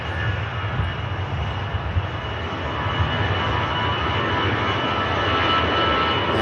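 A TUI airliner bound for Tenerife rolls at Manchester Airport, its jet engines making a steady, broad roar that builds slowly over several seconds, heard alone with no talk.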